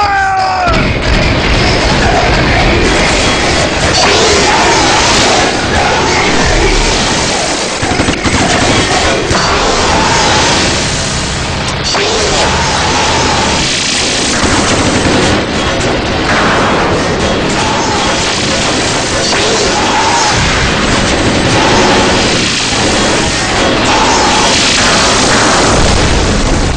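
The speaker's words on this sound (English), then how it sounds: "So number 4 is Gigan's coaxial machine gun and head-mounted Vulcan." Film effect of Gigan's coaxial machine gun and head-mounted Vulcan firing, a dense, loud, continuous barrage of gunfire and booms with no pause throughout.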